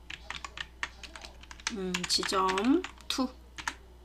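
Close, quick key clicks come from a computer keyboard as text is typed into an Excel spreadsheet, in short irregular bursts, with a person speaking briefly in the middle.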